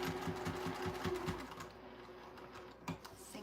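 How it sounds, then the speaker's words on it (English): A sewing machine races through straps at top speed, its quick rhythmic needle clatter running for about a second and a half before easing off into softer, scattered stops and a final short burst. "Let me see how long it takes to sew 4 straps as fast as I can."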